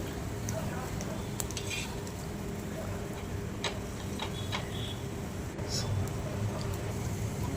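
Low, continuous sizzle of ragi snacks frying in a pan, with occasional light clicks and scrapes of a utensil turning pieces over.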